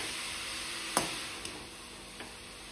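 Grated carrots sizzle softly in ghee for carrot halwa while a spoon stirs them, with a few faint clinks against the pan over a steady frying hiss.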